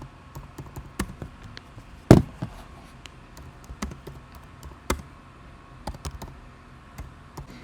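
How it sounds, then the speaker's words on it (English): Typing on a computer keyboard while designing an Instagram carousel in Canva, a sparse, irregular run of close clicky keystrokes with a few louder taps and short pauses between bursts. "let me quickly type"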